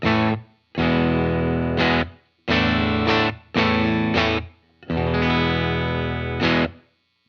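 Electric guitar on the bridge pickup through a clean preset on a Lytt Effects First Rule pedal, played as sustained strummed chords in several bursts with short gaps, loud and alone.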